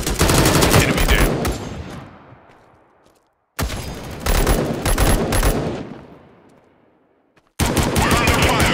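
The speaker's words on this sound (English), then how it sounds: "We're under fire." Gunfire in the video game Tales Of Glory 2: three loud bursts of automatic fire, each crackling volley fading out into a rumbling echo, separated by short silences and carrying no voices.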